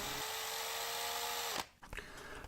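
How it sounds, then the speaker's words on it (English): A power drill running in reverse with a screw extractor bit, a steady high motor whine that stops abruptly partway, followed by brief clatter and low noise. "make sure that the drill is in reverse"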